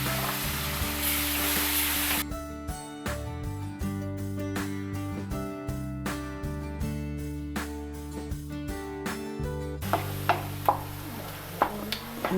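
Blended tomato, two tomatoes ground to a paste, hits a hot pan and sizzles steadily at close range, with background music over part of it and a few sharp utensil taps toward the end.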